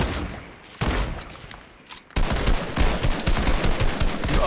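Rapid gunfire in Fortnite during a sniping fight, dense bursts of sharp cracks that start abruptly, pause briefly and resume loud and sustained, with no talking.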